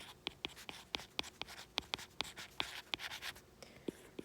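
A math expression written out by hand, with a steady run of sharp tapping strokes and short scratchy scribbles at close range, quiet and regular with brief pauses and no talking.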